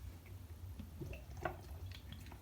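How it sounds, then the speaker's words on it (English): Someone takes a swig of water, giving faint soft swallowing and liquid sounds over a low steady hum, close and quiet. "me just take a little swig of water as my throat is a little bit dry"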